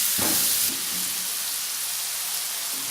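Red chili powder is stirred into a hot masala of turmeric and spices frying in a pan, a steady close hiss and sizzle with a brief scraping stir near the start, no voices.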